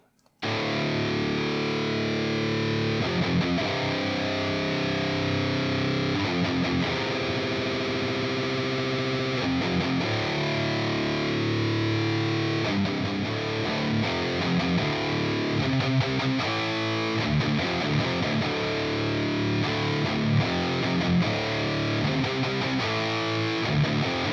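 Heavily distorted electric guitar through a cabinet impulse response plays chugging riffs and sustained chords, dense and continuous with a dark, full tone, no voices.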